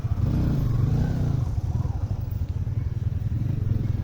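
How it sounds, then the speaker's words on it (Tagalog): A big bike motorcycle engine revs up loudly close by, a strong low growl that swells and then settles into a rough, pulsing idle, with faint voices in the background. "Ito yung kasama namin na big bike."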